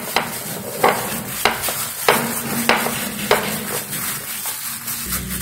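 Minced pork paste for canh mọc is squeezed and mixed by hand with a little cooking oil, giving soft, wet squelching pushes that repeat roughly every half second, close and fairly loud, with no talking.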